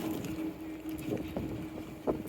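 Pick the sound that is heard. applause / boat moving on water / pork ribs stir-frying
boat moving on water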